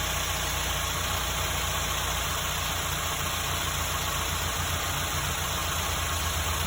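A 2020 Mitsubishi Outlander engine idling just after an oil change, a steady, even drone with no change in pitch throughout, close and fairly loud, with no talking.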